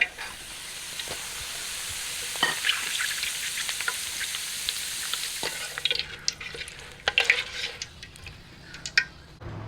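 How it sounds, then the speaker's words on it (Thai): Shallots and kaffir lime leaves fry in hot oil, making a dense, hissing sizzle close up that grows slightly louder, then breaks into crackles and pan clinks from stirring near the end. "การทอดสมุนไพรลงไปก่อนนี่ก็จะทำให้ น้ำมันของเรามีจะหอมนะครับหอมสมุนไพร"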